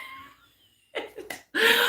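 A single close, sharp sneeze bursts out after a quiet stretch with a couple of short breathy sounds, loud and abrupt at the end.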